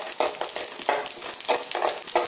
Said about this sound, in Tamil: இந்த எள்ளு வந்து நல்லா சடன்னு பொரிஞ்சு வரும்.